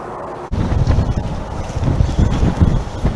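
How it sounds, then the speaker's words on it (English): Strong wind buffets the microphone in a loud, continuous low rumble with gusty surges, no voices heard. "It is extremely windy out here."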